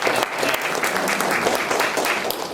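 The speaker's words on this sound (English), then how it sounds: "Let's give Michelle one more round of applause for her." Steady, close applause from a lunch audience after a sustainability talk at a University of Delaware gathering, filling the whole stretch at an even level with no voices on top.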